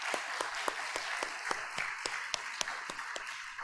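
A church congregation applauding together during a Sunday service, a brisk, even run of clapping that carries on steadily throughout, heard from within the room without voices.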